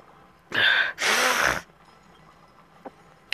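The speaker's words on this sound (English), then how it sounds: "Sorry guys for me sniffling." Two loud, close sniffs or snorts in quick succession from someone with a cold, followed by quiet with faint clicks.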